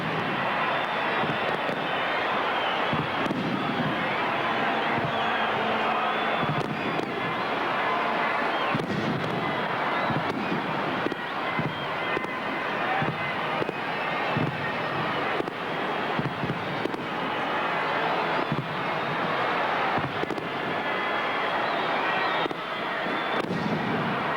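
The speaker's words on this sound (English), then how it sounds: "now the fireworks presented by Foster's in the traditional black and red colours of Essendon" Fireworks display opening the 1985 VFL night Grand Final at VFL Park, Hawthorn versus Essendon: continuous loud crackling and popping bursts with dense booms, filling the air throughout without a pause.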